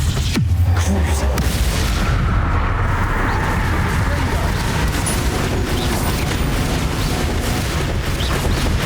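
Bombarda exploding spell blasts in Hogwarts Legacy, loud continuous booming and rumbling explosions with dense crackle, and a voice speaking over the din.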